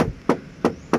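Four sharp knocks on the bumper of a used Nissan ex-taxi, struck at a steady, evenly spaced rhythm, each a short hollow thud close to the listener with no talking.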